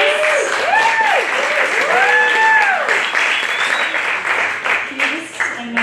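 Loud, dense applause from a roast audience for comedian Kyle, with whoops and cheers rising over it and continuing through the clip, slowly thinning toward the end.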